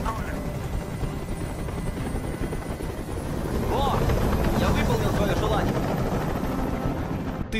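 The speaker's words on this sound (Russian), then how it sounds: "Как же меня бесит этот звук! Прикажи им, чтобы вертолет убрался!" Helicopter hovering overhead in the video game Detroit: Become Human, a loud, steady rotor thrum with dense low rumble running the whole time, swelling slightly louder midway, while a voice speaks over it.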